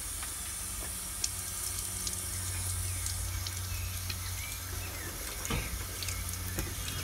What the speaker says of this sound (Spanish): Debes mojarlas bien mojaditas, dejarlas bien mojaditas.